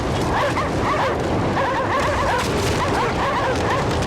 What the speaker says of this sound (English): Those dogs are so excitable.